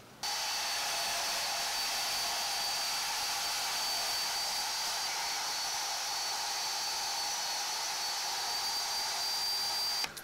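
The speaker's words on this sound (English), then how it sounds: "get this thing on the notcher and bore my new holes." A tube notcher bores holes into bicycle head tubes for a fat-tire triplet bike, making a loud, continuous whirring motor drone that holds steady throughout and cuts off at the end.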